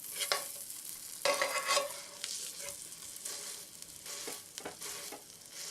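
Bologna sausage frying in a pan, a steady close sizzle broken by several louder bursts of scraping and stirring as the slices are turned, with no talking over it.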